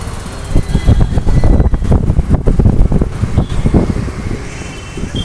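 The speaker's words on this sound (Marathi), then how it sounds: "आमच्या बुलेटने चाललो आम्ही" A Royal Enfield Bullet motorcycle being ridden, its engine thumping with a rough, pulsing low rumble mixed with heavy wind buffeting, loud and close, fading slightly toward the end.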